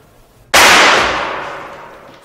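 A single sudden gunshot sound effect in a French radio drama cracks out after a quiet moment, loud and sharp like a firecracker, then rings off in a long decaying tail.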